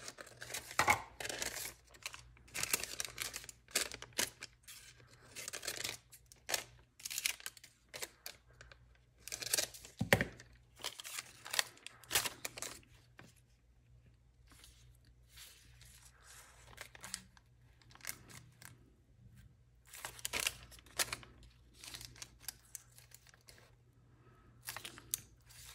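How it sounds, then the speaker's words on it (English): Tough, transparent parchment paper crinkles and rustles as scissors cut a shape from it, in close bursts of crackling and snipping separated by short pauses. "This is that parchment paper. It's very tough, as you can hear it crinkling"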